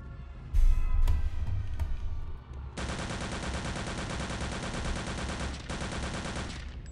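Sustained automatic gunfire from Return to Castle Wolfenstein, a long dense burst of rapid shots with a brief break near the end, loud and close, preceded by a few scattered thumps and noise.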